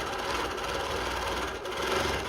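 Sewing machine running steadily while quilting a meandering stitch on a placemat, a continuous close mechanical whir with a faint stitching rhythm and no speech.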